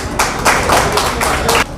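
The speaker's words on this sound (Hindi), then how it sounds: "एक बार जोर से इनके लिए आप लोग सबको अगर ताली मारेंगे" A crowd at a national championship football event applauds children who won medals, loud close bursts of clapping pulsing in uneven waves for under two seconds, with no voices.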